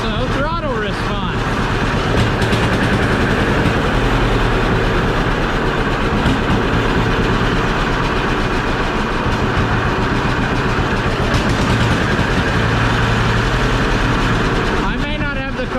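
An old engine named Johnny, its carburetor freshly adjusted, runs loud and close with a steady rumbling drone, throttle blipped at the start and end, while a voice talks over it.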